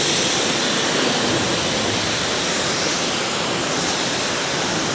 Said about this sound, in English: Let's get some rinse action going now.